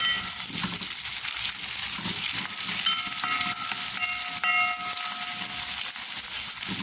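Garlic and turmeric stirred into hot coconut oil, giving a steady bright sizzle with spatula scrapes and a few faint high clinks, close up and with no talking.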